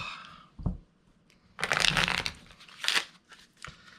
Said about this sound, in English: we're going to shuffle these up